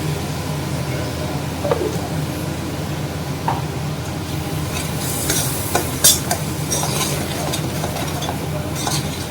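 Tomato puree from two medium tomatoes hits browned onions in a pan, giving a steady low sizzle with occasional spoon scrapes and stirring knocks, fairly close and continuous with no talking.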